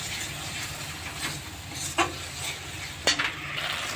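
Spices and sauce being sautéed in a pan while cooking dal, a continuous soft sizzle close by, broken by two sharp scraping clicks of stirring, with no talk.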